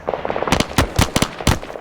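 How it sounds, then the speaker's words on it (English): Suppressive fire in an ArmA 3 platoon attack, loud close bursts of rapid rifle or machine-gun shots in an uneven rhythm, with fainter distant firing between them and no talking. "I'm going to put more suppressive fire down on his position"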